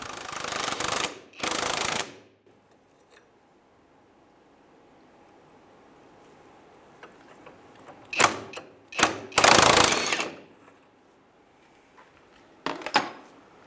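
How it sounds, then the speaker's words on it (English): An impact wrench with a 22 mm socket removes a strut bolt on a 2003-2011 Honda Element, giving short loud rattling bursts at the start and several more later, separated by quiet stretches. "So we have a 22 millimeter wrench, 22 millimeter socket on an impact."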